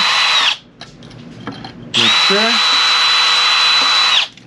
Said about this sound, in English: Look how easy this is, guys. Just drill it.